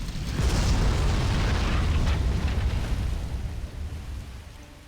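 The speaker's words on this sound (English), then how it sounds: "Beautiful 2005 fire effects." Fire and explosion effects in an older video game, a loud, sustained roaring blast with rumbling booms and crackle that swells and slowly fades.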